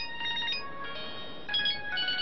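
An incoming-call ringtone on a phone, a bright melodic electronic tone pattern repeating in short bursts, alone and fairly close.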